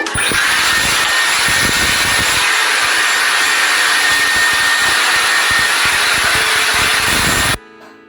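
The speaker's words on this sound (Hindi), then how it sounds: "आप अपने हेयर ड्रायर को ठंडे पे रख के, ड्रायर है उसको गर्म मत कीजिए।" A hair dryer on the cool setting blows loud and close, a steady, strong whooshing roar with a high motor whine that runs unbroken for about seven seconds before cutting off abruptly.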